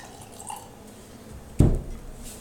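South African Chenin Blanc wine poured into a glass: a single short, close splash and gurgle of liquid lasting under a second, preceded by quiet room ambience.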